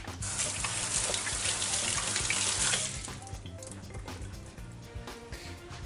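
A kitchen tap runs steadily as hands are rinsed during preparation of spaghetti alla puttanesca, the strong gush lasting about three seconds before easing to a quieter trickle with light clinks of dishes.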